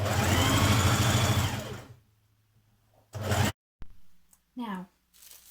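A sewing machine stitches around the pockets of a shirred dress in a loud, fast mechanical burst lasting about two seconds. Brief clicks and short handling noises follow after a pause.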